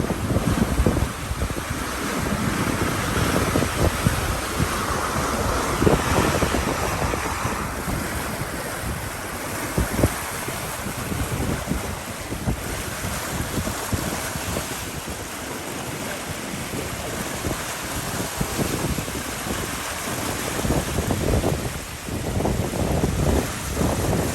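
Rough Caribbean Sea waves and strong wind around a small sailboat with all three sails up on a solo crossing, a continuous loud wash of surf and buffeting wind noise on the microphone throughout, with no talking.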